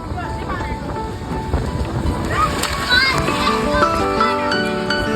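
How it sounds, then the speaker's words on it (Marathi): A child jumps into a swimming pool with splashing water among shouting, playing children and voices, the scene busy and close with wind buffeting the microphone. "आता आम्ही सगळे पोहताना पाहून समूची इच्छा झाली, समू पण उडी मारते."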